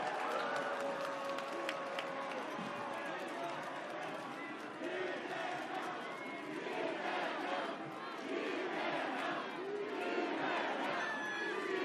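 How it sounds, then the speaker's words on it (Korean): A large outdoor crowd at a Seoul presidential campaign rally for a candidate applauds and cheers, a constant roar of voices and clapping that fills the whole stretch, with amplified speech blending into the din. "다시 한번 큰 박수 부탁드리겠습니다."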